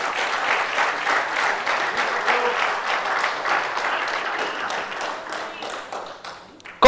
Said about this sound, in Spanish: Un fuerte aplauso a nuestro Dios.